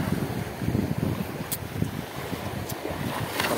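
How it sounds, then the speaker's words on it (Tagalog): Strong ocean waves wash steadily around a fishing boat at sea, mixed with heavy wind buffeting the microphone, a continuous rough roar with no talk. "Sobrang lakas na ng alon."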